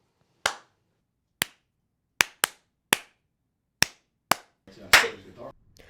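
Seven sharp, isolated hand claps made to sync video and audio while filming a service, each crisp and close with short decay and uneven spacing, followed by a noisier burst at the end.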